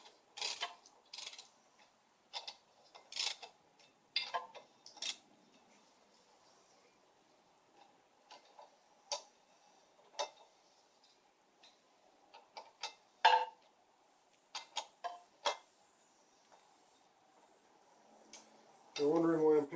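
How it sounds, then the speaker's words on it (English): Wrench turned by hand to snug the bolts joining a motor to its transmission, heard as a scatter of sharp, close ticks and clicks in irregular bursts, with quiet gaps between them and a short voiced sound at the end. "I'm picking up the wrench and turning it instead of using the ratchet"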